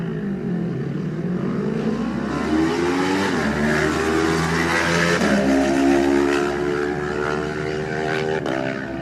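Kawasaki race motorcycle pulling away from the start line of a Manx Grand Prix lightweight race, its engine note rising through revs and receding, loud and continuous with no talk.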